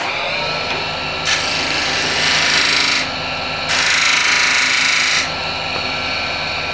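A hand scraper drawn across a wooden surface makes two bright, rasping strokes of about two and a half and one and a half seconds each, separated by a short pause, close and fairly loud.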